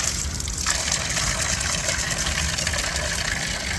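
Fresh water gushing steadily from the mouth of a cat-shaped fountain in Greece, a constant close splashing hiss with no talk.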